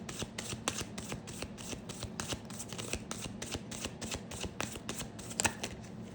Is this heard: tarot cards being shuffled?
yes